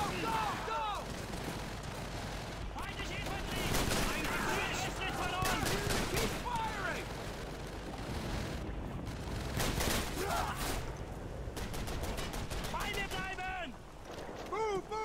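Call of Duty 3 battle gunfire on an island rattles nonstop in dense bursts of rifle and machine-gun shots, with shouted voices breaking through the constant din.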